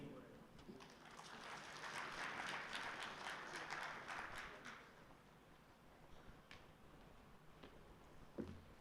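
Audience applause at a labour and employment summit in Zimbabwe, a broad wash of clapping swelling for several seconds and then thinning into scattered claps, with a voice speaking faintly underneath.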